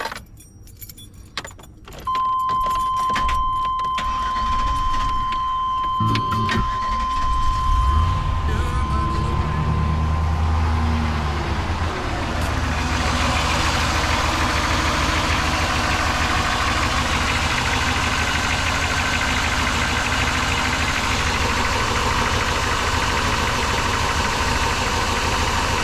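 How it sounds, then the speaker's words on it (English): A 1999 Chevrolet K2500 Suburban with a freshly installed hydroboost brake system: keys jangle at first, then the engine cranks and settles into a steady, loud idle that runs on without a break. "I'm gonna go ahead and start it up,"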